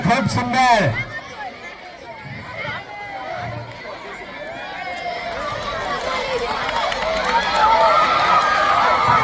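Children sprint in a kho-kho game at a school sports day, with running footsteps mixed into a steady crowd hubbub and scattered voices.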